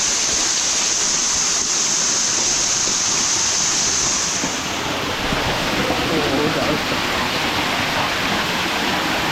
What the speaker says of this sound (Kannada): ನೋಡಿ ಮೇಲಿಂದ ನೀರು ಬೀಳ್ತಾ ಇದೆ.